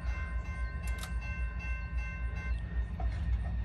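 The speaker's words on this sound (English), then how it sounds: "it looks like we're about to have a train here going right through the middle of the former amusement park" A train rolls through the middle of an abandoned former amusement park, a steady loud low rumble with sustained horn-like tones over the first two and a half seconds, no talking.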